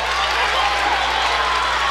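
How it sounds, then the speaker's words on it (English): A home crowd at a college men's basketball game cheers and roars after a big blocked shot, a steady wash of crowd noise throughout. "This crowd's really into it right now."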